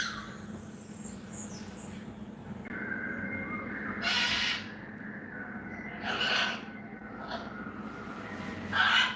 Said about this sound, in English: I would love to have a bird that sounds like that in the background